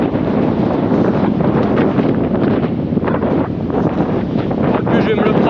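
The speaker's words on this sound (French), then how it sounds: "Il y a un vent de dingue." Strong wind buffeting a microphone on a cycling crossing of the Pyrénées, a loud constant roaring rumble with gusty flutter throughout, a voice faintly mixed in.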